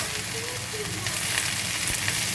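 Okra (bhindi) and onion fry in oil on a medium flame, producing a dense, loud, continuous sizzle close up with slight surges and faint stirring.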